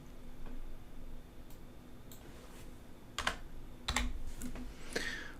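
Computer keyboard keys pressed for Ctrl+A and Ctrl+C shortcuts, a few sharp, close clicks spaced irregularly over a faint steady hum, with no talking.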